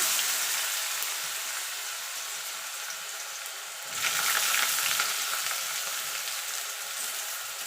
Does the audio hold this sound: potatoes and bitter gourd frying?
yes